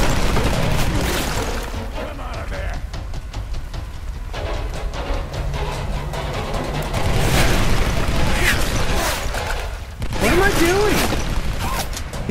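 Gunfire and booming explosions from the Tomb Raider Definitive Edition video game, played on hard difficulty, form a constant dense wash of noise with sharper bursts throughout, loud and steady from start to finish.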